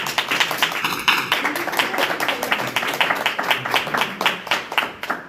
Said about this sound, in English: let's give a round of applause to Oni, Dika, Chukwu